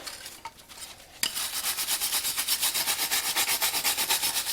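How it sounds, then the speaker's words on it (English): Steady back-and-forth scrubbing on a front brake part from a Mazda 3, rasping off brake residue in a quick, even rhythm after a short quieter scrape at the start; close and alone, with no talk. "clean this guy up. Get all the brake residue off of it."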